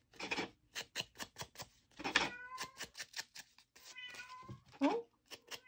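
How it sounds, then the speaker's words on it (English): A house cat meows several times nearby, with drawn-out, wavering cries between sharp tapping clicks from paper crafting with stamps at a desk. "Oh, that's my kitty."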